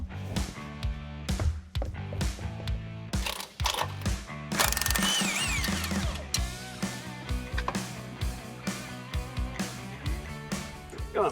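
A ratchet clicks in quick bursts while the wheels come off a 2025 Nissan Frontier Pro-4X pickup, the sharp mechanical ratcheting repeating in short runs over steady background sound.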